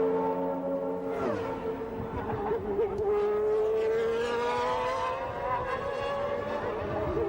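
Formula One race cars from the 1991 season scream past at racing speed, a loud high-pitched engine whine sweeping and shifting in pitch as cars accelerate and change gear, with several machines overlapping.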